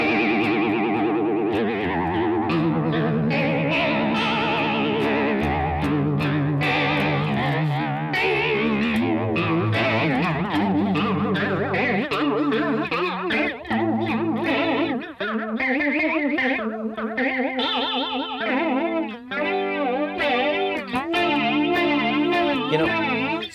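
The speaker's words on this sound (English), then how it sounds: "the classic flanger sounds, but you can get into more weird terrain" Electric guitar with a sweeping flanger effect, chords and notes whooshing and swirling as the jet-like modulation rises and falls, loud and continuous.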